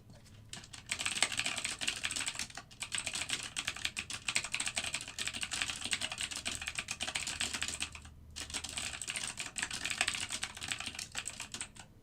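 Steady, fast typing on a computer keyboard, close and continuous, with dense clicking broken by two brief pauses.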